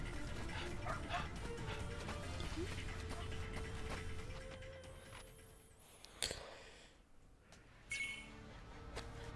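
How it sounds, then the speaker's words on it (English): A dog barks and yelps at a fire in the video game Like a Dragon: Ishin!, with repeated barks through the first half that fade later, heard under game sounds and voices. "He is barking at the fire."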